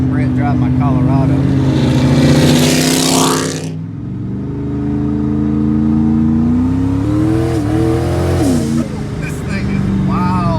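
A Chevrolet Colorado pickup with a turbocharged Coyote V8 on an 80mm On3 turbo kit pulls hard, its engine note rising and holding loud and close, dropping briefly midway before climbing again.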